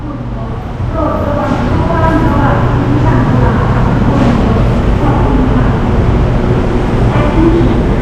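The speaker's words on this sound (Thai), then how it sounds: "ก็จะวิ่งค่อมอยู่บนรางอย่างที่เราเห็นนี่นะครับโดยด้านล่างของรถเนี่ยก็จะเป็นล้อยางนะครับ" Bangkok's MRT Yellow Line driverless monorail train running on rubber tyres, a steady loud rolling rumble with a broad whining hum that swells after the first second and carries on continuously, with a voice talking over it.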